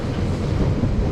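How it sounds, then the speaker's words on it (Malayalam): GO commuter train passing in Toronto, a dense, loud rumble close by with steady wind noise and no clear rhythm. "ഇത് ഗോ ട്രെയിനാണ് കേട്ടോ."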